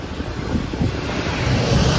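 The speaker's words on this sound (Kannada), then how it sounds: "ಮಳೆ ನೀರು ಸೌಂಡ್." Monsoon rainwater rushes near the overflowing Tungabhadra River at Harihara, a loud, steady roar of water with heavy wind buffeting on the microphone throughout.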